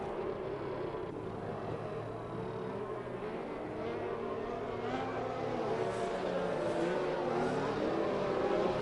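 Formula race car engine held at full throttle in an F1 racing game at Bahrain, a steady loud high-revving drone throughout with a slight rise near the end.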